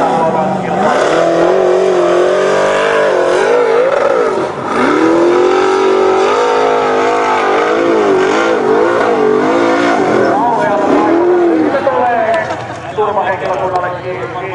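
A Formula Offroad truck engine revs hard during an off-road race, rising and falling in loud, sustained wails close by, with a commentator talking over it.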